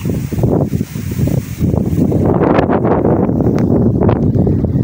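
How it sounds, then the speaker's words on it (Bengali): Strong wind buffets the microphone in loud, continuous gusts, with rushing, roaring bursts that swell and fade throughout. "প্রচুর বাতাস আমাকে নিজেকেই ফেলে দিচ্ছে, এত বাতাস।"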